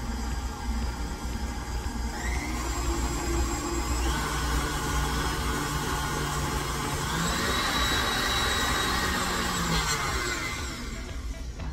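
Electric mixer running on low speed through thick pumpkin batter, a continuous motor whir with shifting hum tones that rises and falls slightly as the beaters work, alone and without talking.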